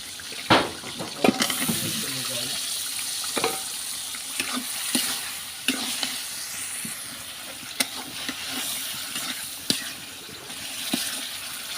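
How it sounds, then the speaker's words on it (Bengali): Vegetables stirred into fried spice paste in a pan, with a steady sizzle under scattered sharp clicks and scrapes of a spatula, close and moderately loud, no talking. "এবার আমার মশলা কষানো হয়ে গেছে এখন আমি তরকারি দিয়ে দেবো"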